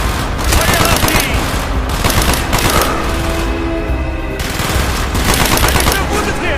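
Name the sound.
gunfire in video game Call of Duty Black Ops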